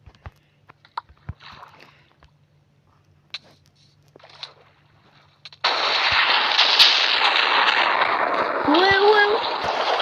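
In Minecraft, scattered clicks and brief game noises come first, then a loud explosion breaks out about halfway through and holds as a dense, sustained roar until the end. A voice speaks briefly near the start.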